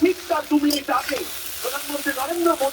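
Chicken chowmein noodles with carrot, capsicum and beans are stir-fried, sizzling under a voice speaking close by, with scraping stirs in the pan.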